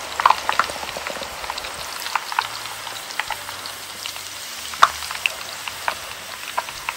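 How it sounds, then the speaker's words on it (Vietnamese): Dry noodles deep-frying in hot oil for a crispy seafood stir-fry, a steady crackling sizzle with scattered sharp pops throughout, close and continuous with no talk. "Rồi thôi là bỏ vô mình chiên nè."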